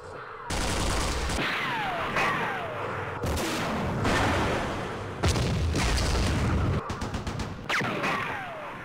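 Rapid machine-gun bursts and heavy artillery booms from a Vietnam War strategy game, loud and dense, with repeated blasts and falling whistles layered across the whole stretch.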